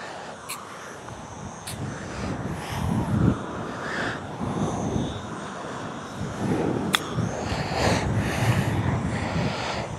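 Wind gusting across an open golf course at Villaitana in Spain, a steady broadband rush that swells and fades over about ten seconds, with a few faint sharp ticks and no clear talk.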